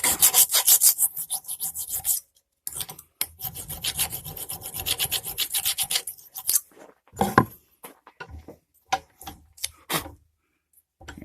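A hand file rasping zinc coating off galvanized metal held in a blacksmith vise, loud close scraping strokes in uneven bursts separated by short pauses.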